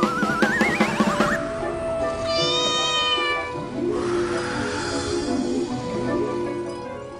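A cat gives a string of clear, drawn-out meows, several in a row with rising and falling pitch, loud and close, over a soft background.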